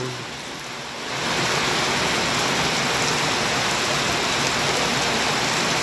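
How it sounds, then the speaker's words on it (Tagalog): Heavy rain swells in after a quieter moment, then pours down in a loud, steady hiss without a break. "inabutan tayo ng malakas na ulan"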